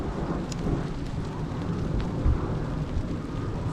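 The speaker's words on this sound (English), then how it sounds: "now it's really starting to rain" Heavy rain pours outdoors at a UK wetland, a constant loud wash of drops with low rumbling beneath and a few sharper splats on nearby surfaces.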